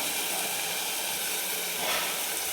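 Spices sizzle steadily in hot oil as a tadka for dal, a constant close-range frying hiss with no voices over it.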